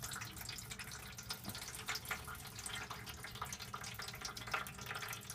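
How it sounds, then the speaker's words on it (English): Water drains from a clogged Whirlpool Duet front-load washer into a tray, a steady, faint trickling and splashing that runs continuously with small drips, no voices. "this is the water coming from the washer"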